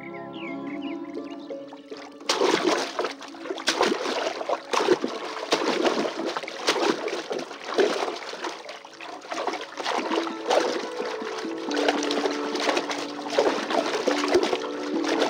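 Splashing and playing in water, heard as irregular bursts of splashes and sloshing that begin after a short quieter stretch with a tonal sound, then continue unevenly at close range.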